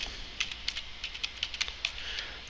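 Quick light taps on a computer keyboard as account details are entered, a soft, irregular run of keystrokes over a quiet background.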